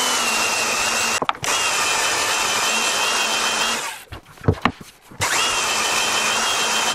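A power sander works along the edges of a handmade wooden workshop bookshelf, a loud steady whirring hum near the mic that briefly cuts out, then stops for a moment of scraping and handling noises before starting again.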